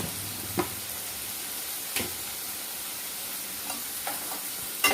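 Coriander and tamarind dropped into a hot pan sizzle with a continuous hiss, broken by a few sharp clinks and scrapes of stirring, close and without talk.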